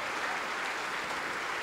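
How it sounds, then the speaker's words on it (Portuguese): A church congregation applauds together, a steady, full wash of many hands clapping at even loudness throughout, with no break. "E vamos aplaudir ao Senhor"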